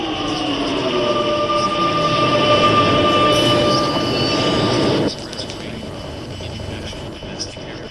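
An automatic subway train rumbles through stations with a steady rolling roar and high whine that drops off abruptly partway, leaving quieter rattling; a voice is faintly present.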